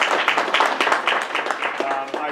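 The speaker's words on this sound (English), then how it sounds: "Let's give Liz one more round of applause." Audience applause at a distinguished alumni awards event, a dense, steady patter of many hands clapping for the full stretch, fairly loud, with no clear pauses.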